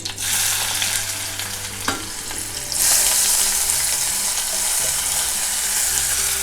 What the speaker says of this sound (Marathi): तेल तापलं की आपण कढीपत्ता घालूया